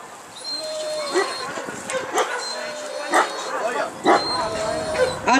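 A dog barks and yips repeatedly with whimpering tones, close by, while people talk over it at a Russian Ring dog sport trial.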